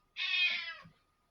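Fifi the cat lets out a single clear meow indoors, close and fairly quiet, about a second long, followed by silence.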